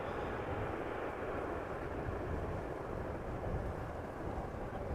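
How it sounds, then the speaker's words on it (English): A passenger airliner touches down at Amsterdam Schiphol Airport, a steady broad roar of engines and rushing air that holds at an even, fairly loud level throughout, with no talk. "what a textbook landing"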